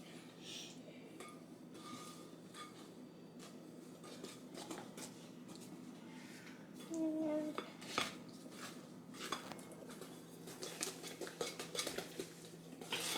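Flour being stirred slowly into brownie batter for Black Forest brownies, a utensil repeatedly scraping and clinking against the bowl in uneven strokes at a fairly quiet level, with brief voices now and then.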